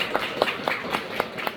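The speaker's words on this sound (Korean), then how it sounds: "박수 한번 더 주시죠" Scattered applause from an audience at a book talk, a thin run of light claps at a steady pace, close and moderate, with no voices.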